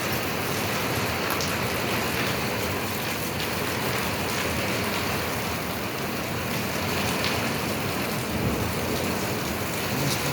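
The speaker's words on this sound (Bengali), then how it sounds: "আল কাসিম শহরে ধুমধারাক্কা বৃষ্টি হচ্ছে।" Heavy rain pours in Al Qassim, Saudi Arabia, a dense, unbroken hiss of drops on surfaces, steady and loud throughout with no voices.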